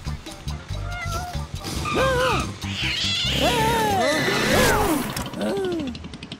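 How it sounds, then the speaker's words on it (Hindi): A cat meows repeatedly, with rising and falling cries spread across the moment over a busy, noisy background that may include faint voices. "बढ़िया बिल्ली।"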